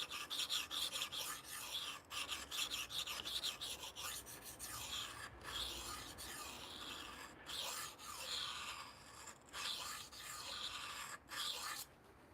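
A knife is sharpened on a 400 grit stone with steady, continuous rasping strokes that scrape close and clear, alone without talk.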